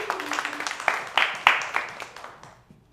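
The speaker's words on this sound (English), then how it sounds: "give yourself a round of applause." A small live-performance audience claps in a few scattered, sharp bursts that thin out and fade to near silence by the end, with no voices over it.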